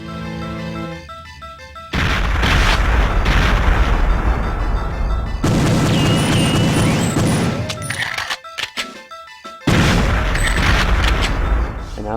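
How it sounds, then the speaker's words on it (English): A grenade blast from the video game Perfect Dark, a sudden loud boom followed by rumbling debris and game effects, with a second burst of noise later amid music and bleeps. "I threw that grenade pretty horribly."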